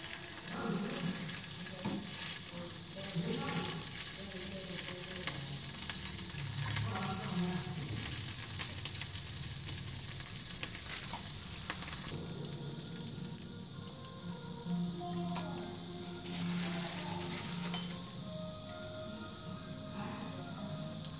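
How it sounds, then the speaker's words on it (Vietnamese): Rice cakes made from leftover rice bound with a little glutinous rice flour fry in a pan of oil, giving a steady, close crackling sizzle throughout with faint kitchen clatter. "bạn cơm thành những miếng như này rồi các bạn cho vào chiên"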